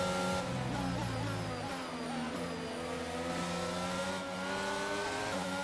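An F1 race car engine from the F1 22 game screams at high revs as a faster car moves to overtake, a steady, loud harmonic whine with shifting pitch and no talking.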